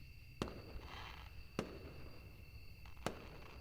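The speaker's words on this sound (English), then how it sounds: "More rockets followed, and their thunderous noise echoing throughout the land." Firework rockets in the video game Angels with Scaly Wings burst three times at regular intervals, each a sharp crack over a low rumbling bed with a steady tonal hum.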